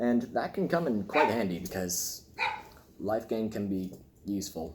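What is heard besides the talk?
dogs barking in the background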